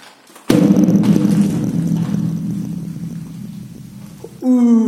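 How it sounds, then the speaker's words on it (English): One loud, heavy door slam booms and rolls away down a long, reverberant corridor of a Cold War nuclear bunker near Gillingham, the echo fading over several seconds before a voice begins. "we can hear the echo up this long corridor when I slam this door."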